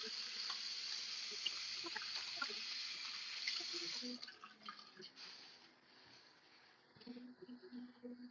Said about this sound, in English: I just gotta wash my hands.